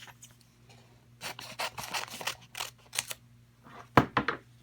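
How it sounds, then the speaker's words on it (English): Scissors snip through a Silhouette foil transfer sheet in a run of quiet, crisp, irregular cuts, ending with a couple of sharper final snips. "cut off a section big enough to fit where your design is going to be. And then just cut that off"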